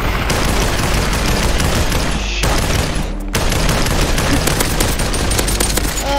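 Rapid, dense gunfire erupts in the VR shooter game Population: One, loud bursts rattling almost continuously with a brief break partway through and no talking.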